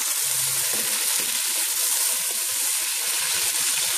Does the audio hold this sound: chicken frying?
yes